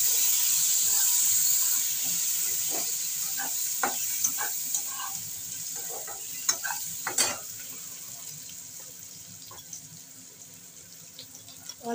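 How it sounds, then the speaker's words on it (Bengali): Taro fries in a pan for a bata fish curry, a steady bright oil sizzle with scattered soft clinks and scrapes of stirring, close and continuous, fading slightly, with no talking. "এবার ভালো করে কচুটাকে একটু ভেজে নেব।"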